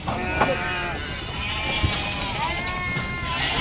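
Sheep bleat repeatedly as they are unloaded at the Pebbair livestock market, several overlapping calls rising over a steady crowd murmur with some background voices.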